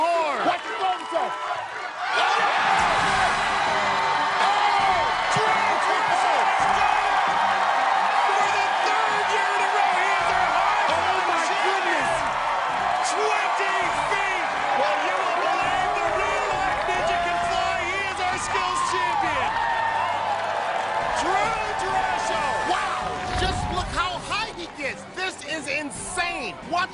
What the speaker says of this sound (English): And just look at the reaction from the crowd.